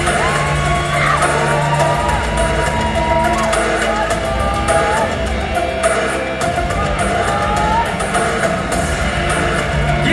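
Audience at the Miss Supranational Thailand 2023 pageant applauding and cheering as a loud, steady crowd roar with whoops and shouts across the whole stretch, a voice over a PA woven through it.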